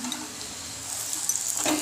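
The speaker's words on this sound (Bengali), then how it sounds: "ওই লাচ্ছা পরোটা এখন ভাজা চলছে" Soft sizzling from lachha paratha, a layered flatbread, frying in a pan, fairly quiet and steady, with a light clink of a utensil near the end.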